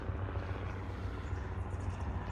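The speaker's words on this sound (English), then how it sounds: "There's a helicopter" A helicopter flies overhead, its steady loud rotor and engine roar filling the air in a continuous low rumble with no other sounds standing out.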